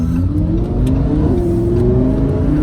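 A loud car engine revs up, close and heavy, with a rising rumbling tone that stays steady for a few seconds. No one talks over it.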